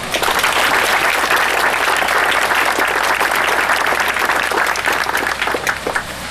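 A large outdoor audience at the reopening of Cascadilla Gorge Trail claps loudly and steadily for about six seconds to welcome Mayor Myrick, then the applause thins out near the end.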